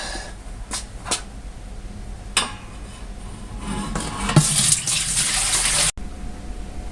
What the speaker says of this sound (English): Okay, we're gonna add some water, test for leaks, and see what this thing does.